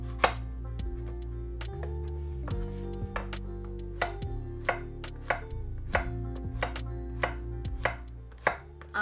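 Zucchini chopped with a knife on a board, a rapid irregular series of crisp thuds, close and clear, over a low steady background hum with no voices.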